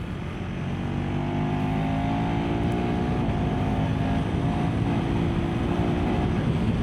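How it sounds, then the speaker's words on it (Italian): A KTM Adventure 390 R motorcycle engine drones steadily at speed on the road, its tone rising gradually through the revs beneath constant wind rush, loud and close throughout. "un motore che ama salire di giri."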